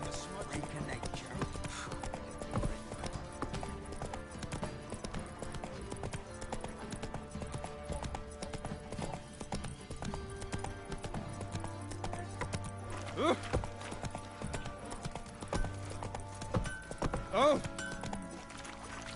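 Roach, a horse in the video game Witcher 3, gallops with steady clip-clop hoofbeats under game music and ambience, joined by a brief exclamation from a player.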